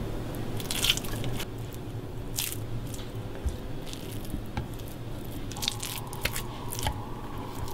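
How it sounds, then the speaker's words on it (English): Ground meat being squeezed by hand into a thin patty for a Japanese teriyaki burger: soft, close, wet squishing and sticky crackling in irregular bursts over a quiet background, with no talking. "So just get your patty, squeeze it together like that."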